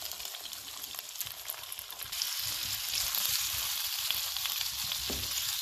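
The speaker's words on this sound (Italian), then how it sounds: "Mettiamo in padella i calamari." Squid hits hot oil in a pan and sets off a loud, steady sizzle that swells partway through and keeps crackling evenly, close up.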